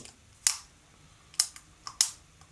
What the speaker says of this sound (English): We're going to click the button here.